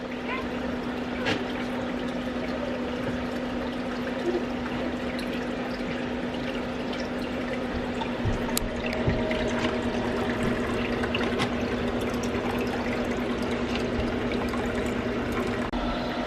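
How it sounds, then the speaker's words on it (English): Clean water runs steadily into a fish tank as it is filled, a constant wash of pouring and trickling with a low hum beneath, near and continuous throughout. "Okay, so I'm filling up the tank"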